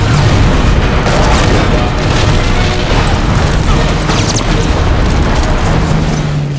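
Video game explosions in a surround sound demo, a loud sustained rumbling boom with dense crackling debris and low thunder filling the whole stretch.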